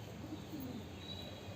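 Pigeons coo softly in a short, faint burst among a flock, with a domesticated pigeon mixing in, low murmuring calls and no voices.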